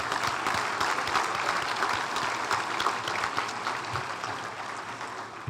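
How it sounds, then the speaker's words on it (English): Sustained applause for a group of award nominees at a regional chamber awards event, steady clapping from a roomful of people that tapers slightly toward the end. "Can we please give a round of applause to this group of nominees?"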